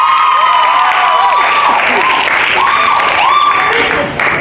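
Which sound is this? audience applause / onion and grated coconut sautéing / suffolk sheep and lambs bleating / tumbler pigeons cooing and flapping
audience applause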